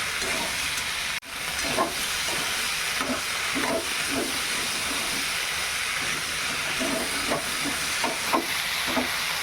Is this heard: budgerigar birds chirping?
no